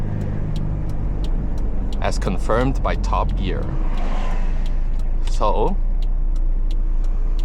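A 1991 Toyota Hilux drives along with a steady, low engine drone underneath someone talking close by, while faint rhythmic ticks repeat throughout.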